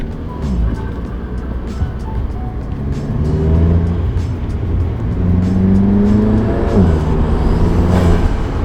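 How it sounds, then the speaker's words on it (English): A GTI's engine drones steadily from inside the cabin, with rising whistling turbo spool sounds as the revs climb and fall. "You hear some turbo noises right now."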